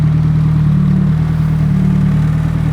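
Nissan Cefiro with a swapped Honda K24 engine idles steadily as it warms up, a close, loud, even hum with a low throb that holds constant throughout.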